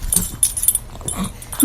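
A dog reacts to a guest at home with a few short, fairly close yips and whimpery barks, scattered unevenly among light background noise.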